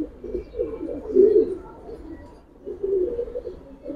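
A pure-bred male pigeon gives two swelling coos, close and fairly loud, with a soft pause between them and no talking.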